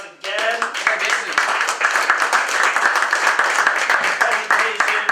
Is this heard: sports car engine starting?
no